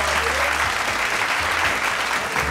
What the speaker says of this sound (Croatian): Molim jedan veliki aplauz za naše sjajne đake.